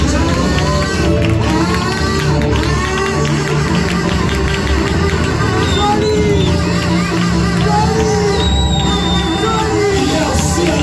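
A church congregation cheers and acclaims the Lord in a loud, sustained wash of crowd voices, shouts and whoops that runs for the whole stretch without a break.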